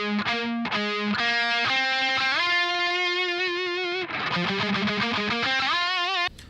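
Distorted electric guitar plays a riff at a slow tempo, sustained harmonic-rich notes stepping and sliding between pitches, ending on a high note, loud and alone before cutting off.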